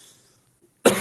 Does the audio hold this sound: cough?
yes